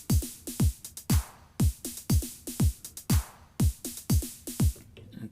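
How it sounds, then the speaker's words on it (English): Drum pattern programmed on a Roland JD-Xi synthesizer with a hand clap, heard alone as a steady looping beat of punchy kicks with crisp clap and hi-hat hits, close and clear. "So the completed drum sequence sounds like this."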